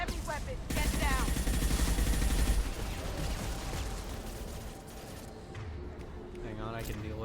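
Heavy weapon gunfire in the Mass Effect 2 video game, loud dense bursts and mechanical clatter at the start that fade into a busy battle din, with voices talking over it.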